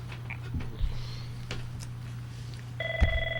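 A telephone rings in a radio studio during a live morning show, a short electronic tone pattern at the end of the clip over a steady background hum, no talking.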